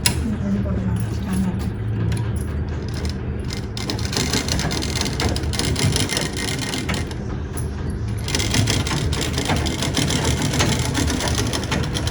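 A sewing machine runs steadily while stitching a fabric pouch, with a continuous mechanical whir and rattle that stays loud throughout, while someone talks over it.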